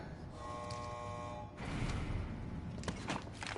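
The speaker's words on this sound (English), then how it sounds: "Saved by the alarm. Of some sort." A buzzing electronic alarm blares in Final Fantasy VII Remake, a steady harmonic tone for about a second and a half, then a louder noisy rumbling burst follows.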